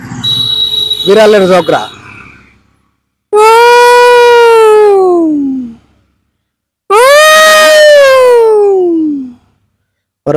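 A man mimics two cats fighting, with long rising and falling yowls in two drawn-out bursts after a short gasping, growly lead-in, loud and close.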